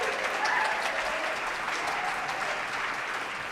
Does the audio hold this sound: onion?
no